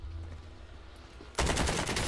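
Rapid automatic gunfire in the Call of Duty Warzone video game, a loud sustained burst that starts abruptly after a quieter stretch of ambient rumble and continues to the end.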